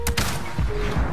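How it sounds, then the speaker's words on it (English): Gunfire in Modern Warfare multiplayer on the Shoot House map, a few sharp shots in quick succession, loud and close, with faint game tones underneath. "If I'm shooting at this guy"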